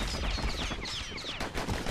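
The Kid's guns in Bastion fire in a dense, rapid burst of gunfire that fills the short moment loudly and continuously, with no voices.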